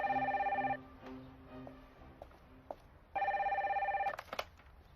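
A telephone rings loudly in two bursts of electronic trilling, the second burst longer and ending in a clatter as the handset is picked up.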